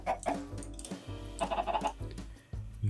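Several short Minecraft chicken clucks sound close by against a low steady hum, with brief pauses between the clucking.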